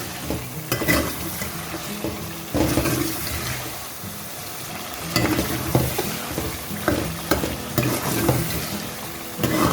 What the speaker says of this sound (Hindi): यहाँ पे हम डाल देंगे 1 अदद गोल टमाटर बारीक कटे हुए। अच्छी तरीके से इसको भूनेंगे।